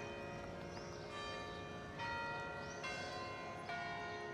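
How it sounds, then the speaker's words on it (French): Church bells peal in Braga, Portugal, a dense ringing of overlapping tones with fresh strikes swelling in every second or so, steady and moderately loud with no voices. "le tintement des cloches des églises se déclenche"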